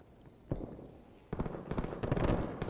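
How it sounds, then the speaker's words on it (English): A flashbang grenade detonating in a video game: a sharp bang, then a bigger crackling blast with scattered pops and rumble that carries on to the end, fairly close. "the flashbang is kind of interesting"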